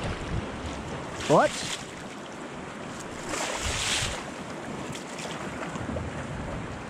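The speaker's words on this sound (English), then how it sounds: "she's going to rock and roll in the waves" Waves slosh around a small paddled boat with a rudder on its maiden voyage on open water, a continuous wash buffeted by heavy wind noise, with a brief spoken word near the start.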